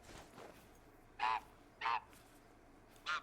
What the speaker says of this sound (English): Shut up, geese.